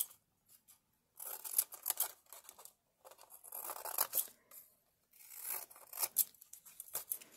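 Scissors snip through sheets of colored paper in a pop art collage, close and crisp, with repeated bursts of quick cuts separated by short pauses and paper rustling between strokes; no one speaks.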